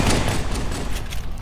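Elites fire energy weapons at the player in Halo 2, producing a dense burst of rapid overlapping shots and impacts that stays loud and busy the whole time.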